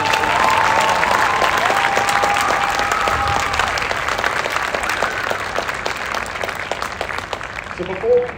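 A large audience applauds a marching band's leadership team at a band preview event, loud and sustained clapping with crowd noise for several seconds before easing off at the end.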